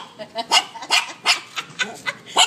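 Two Shih Tzus barking back and forth in short, sharp yips and barks, a quick irregular exchange at moderate distance.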